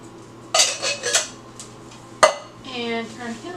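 Green beans tipped into a metal cooking pot at home, a couple of loud clattering rattles and a sharp clank, close by, with brief pot-and-lid handling noise.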